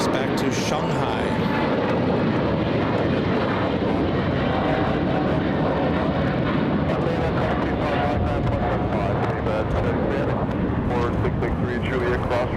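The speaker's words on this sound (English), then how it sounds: "there goes the China Eastern flight. 586 back to Shanghai" A China Eastern airliner departs Los Angeles International Airport for Shanghai, a loud, sustained broadband engine roar that fills the whole stretch, with a voice faintly under it.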